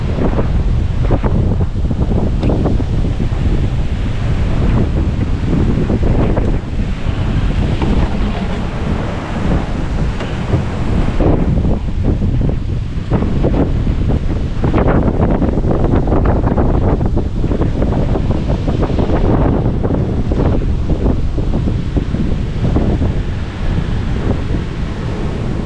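Strong wind buffets the microphone on a small boat at sea while waves surge and crash, producing a loud, continuous roaring rush throughout, with no speech.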